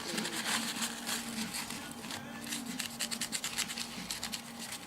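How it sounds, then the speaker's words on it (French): Cleaning thermal paste off a laptop's small copper heat pipes, a faint close rubbing and scratching in quick repeated strokes, with no voices. "on vient nettoyer cette pâte thermique"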